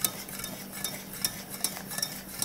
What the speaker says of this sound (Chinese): 要记得不停的搅拌。